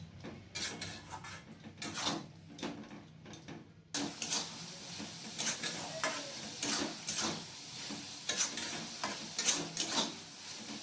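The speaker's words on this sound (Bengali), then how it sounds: "এরপর মাশরুমগুলোকে ভালো করে নাড়াচাড়া করে নেব।" Marinated mushrooms stirred and fried in spiced oil for a tadka matar mushroom dish, a steady close sizzle broken by repeated scraping strokes of a spoon in the pan, louder after a short pause.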